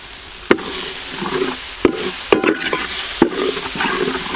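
Green chillies frying in leftover chicken-fry oil, a loud close sizzle broken by several sharp spoon scrapes against the pan as they are stirred.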